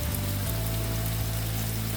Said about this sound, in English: Here's the rain that I heard coming.